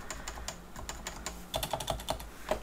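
Several crisp key presses on a computer keyboard while coding Java in an editor, including a press of the F2 key, sounding as close, irregular clicks that bunch together toward the end with no talking.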